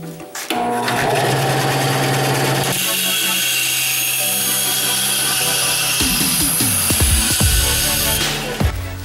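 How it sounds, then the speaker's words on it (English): Aluminum stock being power-cut to length for homemade vise soft jaws, a loud continuous mechanical whine with a higher-pitched cutting tone entering partway through, sustained for several seconds and then winding down with clunks near the end. "so I'm going to cut my aluminum at 6 inches"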